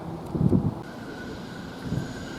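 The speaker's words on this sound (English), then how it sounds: "Now we've got the first train of the day" The first train of the day pulls into Shenfield railway station, a low distant rumble of wheels and carriages rising briefly then fading under steady wind buffeting the microphone, with no speech.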